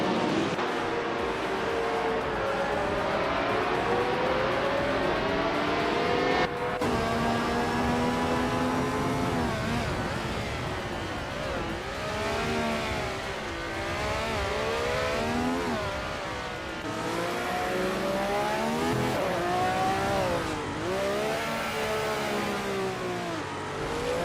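Race car engines from a racing video game, including a Matra MS7, whine and rev continuously, with rising and falling pitch sweeps as the cars accelerate and shift, loud and steady throughout with no talking.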